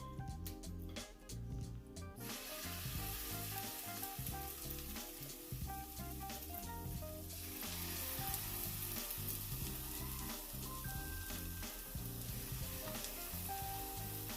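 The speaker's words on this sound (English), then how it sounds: "Go ahead and just finish frying the second batch." Banana fritters sizzle and crackle steadily in hot oil, a dense close frying hiss with occasional pops and stirring, no talking.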